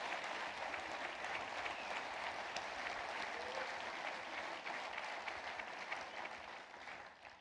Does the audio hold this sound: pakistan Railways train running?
no